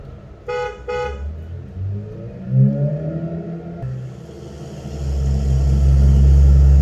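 A recorded car sound effect played back from a speaker: two quick horn toots, then an engine revving and rising in pitch, ending in a loud sustained low roar as the car accelerates.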